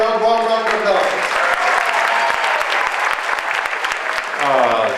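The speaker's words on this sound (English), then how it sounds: "give a warm round of applause" An audience gives a warm round of applause to welcome comedian Tim Conway at a church fundraiser, steady dense clapping from a crowd lasting several seconds, with a voice briefly heard at the start and end.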